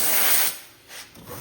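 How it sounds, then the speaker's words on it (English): A tire plug reamer rasps inside the hole of a punctured tire, roughing it up: a close, hissy scraping burst, a quieter pause, then a few shorter rasps. "I'm gonna take my reamer now"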